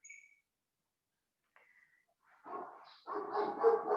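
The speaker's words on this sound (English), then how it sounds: "you're going to hear that dog in the background and some other animals" A dog barks and yelps in the background, starting with faint brief sounds and then giving louder, rough bursts over the last second and a half, with no one talking over it.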